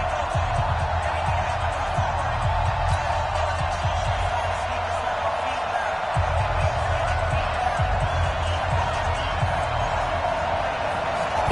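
A raucous stadium crowd at an NFL Cowboys game against the New York Jets roars in a dense, sustained wash of noise, with a broadcaster's voice talking over the din throughout.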